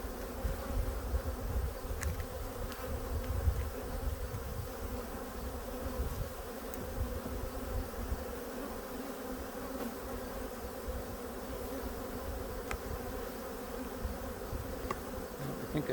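Honeybees hum in a dense, continuous drone around an open hive during a late-August inspection, a close swarm buzz with occasional louder passes near the microphone and no talking.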